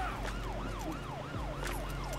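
Wailing emergency siren in the video game GTA V, a steady rising-and-falling yelp repeating about every half second over a low engine drone, loud and continuous with no talking.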